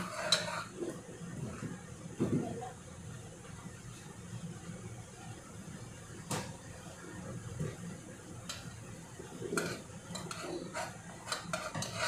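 Ingredients being sautéed in a pan for macaroni, with soft sizzling, scraping and occasional clinks of a utensil against the pan, faint and close, with no talking.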